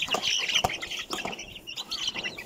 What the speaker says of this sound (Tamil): நம்மளோட கோழி குஞ்சு எல்லாமே அடை வச்சுதுங்க.